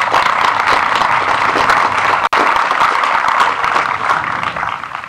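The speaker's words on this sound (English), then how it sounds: "Let's give them a round of applause" Graduation ceremony crowd applauds the teachers, sustained loud clapping filling the hall from start to end with a brief dropout midway.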